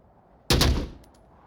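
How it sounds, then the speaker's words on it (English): Gunfire in the VR shooter Onward: one loud, close burst of shots that cracks out of near silence and rings off for about half a second, with a faint echo after. "shots come in from hotel"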